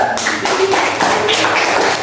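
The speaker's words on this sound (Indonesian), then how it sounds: "Tepuk tangan dulu buat ketua kelompok Anda." A classroom of pupils applauds their group leader with a steady, dense wash of close clapping and tapping that runs throughout, with faint voices mingled in.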